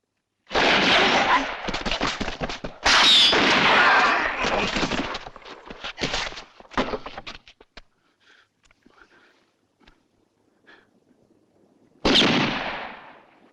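Gunfire in a Western shootout: dense, loud volleys of shots fill the first few seconds, thin out to scattered faint cracks, then one more heavy burst erupts near the end, with voices mixed in.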